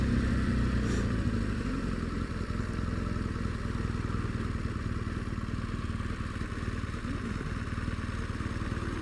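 A 2013 BMW R1200GS motorcycle riding with a steady engine drone and road roar throughout, loud and continuous, with no distinct gearbox clonks standing out.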